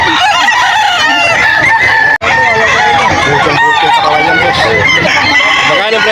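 Roosters crowing loudly and repeatedly amid a crowded poultry market in Bocaue, Bulacan, with hens clucking and people talking throughout, broken by one brief silent gap.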